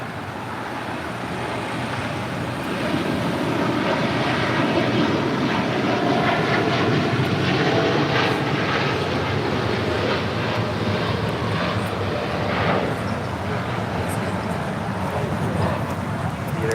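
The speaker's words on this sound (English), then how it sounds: "This is Air Tahiti Nui, flight 621, taking off to Papeete on a 787-9 Dreamliner." An Air Tahiti Nui Boeing 787-9 Dreamliner takes off at LAX, its engines a sustained broad roar heard from a distance, steady and loud throughout, mixed with faint wind buffeting on the microphone.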